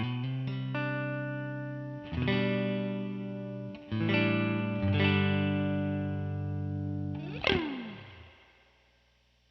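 Electric guitar played through the clean channel of a PRS MT15 amp with reverb: several sustained strummed chords, then a final struck chord that rings out and slowly fades, with effects coloring the tone and no talking.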